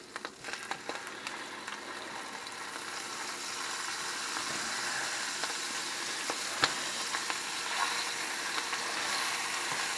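Salisbury steak patties searing in a hot pan give off a steady, dense sizzle that holds fairly level throughout, with a few sharper crackles and pops standing out, and no talking.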